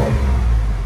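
A V6 engine on an older car with a Borla exhaust, blipped once as the gas is tapped: a brief, deep, loud rev swelling up close, alone with no talk.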